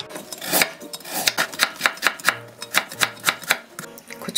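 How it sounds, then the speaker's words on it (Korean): A knife cuts carrot into fine julienne strips on a board, giving a steady run of about sixteen crisp, close taps with no talk over them. "당근은 다 사용하는 게 아니고 조금만 채를 썰어서 넣어주겠습니다"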